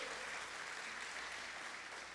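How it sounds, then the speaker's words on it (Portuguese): A church congregation applauds during a Portuguese-language sermon, a steady, dense patter of many hands that stays faint and distant for the whole stretch, with no voices rising above it. "Pode aplaudir."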